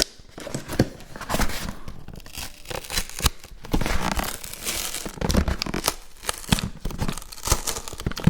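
Parcel packaging being opened up close, with dense, continuous crinkling and tearing of plastic and paper and sharp rustling bursts throughout, no talking.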